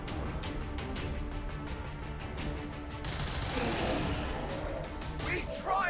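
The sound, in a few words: gunfire from XCOM 2 video game shots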